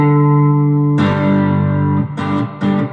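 Distorted, reverberant notes from a three-string cigar box guitar ring out loudly: one held tone, then a heavier crunchy chord followed by two short stabs.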